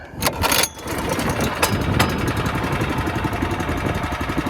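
A Turfco Kriscutter engine, started cold, catches after a brief loud burst and then settles into a steady, close, rumbling run that carries on alone.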